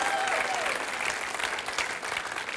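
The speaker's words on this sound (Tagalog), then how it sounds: "Sige po, palakpakan natin yung Panginoon." A church congregation claps together during a worship service, producing sustained, fairly loud applause with a faint voice rising over the crowd.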